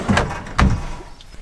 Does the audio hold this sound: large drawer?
yes